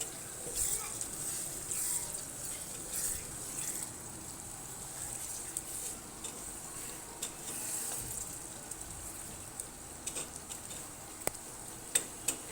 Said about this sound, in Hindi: अब हम इसको भूनते हैं कीमे को।